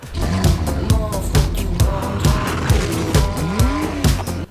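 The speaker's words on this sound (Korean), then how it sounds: "6기통 자연흡기 사운드를 만끽할 수 있는 차가 아닐까 하는 생각이 듭니다" A Porsche 718 Boxster or Cayman GTS 4.0 revs hard and shifts repeatedly, a loud, rasping naturally aspirated six-cylinder wail rising and falling, with faint tire noise and no talking.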